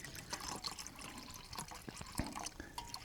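Water splashes steadily into a camp cooking pot for potatoes at a high-elevation backpacking campsite around 10,500 feet. The pouring and trickling runs at a moderate level throughout, with no talk.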